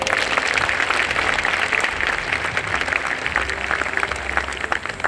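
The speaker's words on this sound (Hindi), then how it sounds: "आप हमारी इस टीम के लिए बहुत जोर तालियां बजाएं एक बार" An audience at a coaching institute's new academic session gathering claps continuously, a dense, steady patter of many hands filling the room for several seconds.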